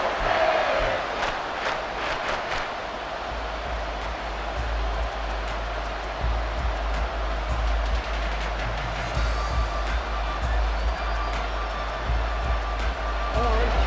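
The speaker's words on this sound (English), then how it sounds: "this crowd is making an impact right now" Loud, steady roar of a football stadium crowd during a tense third-and-ten play in a close, hard-fought game, a dense continuous wall of noise with swelling shouts and a few sharp whistles, no talk over it.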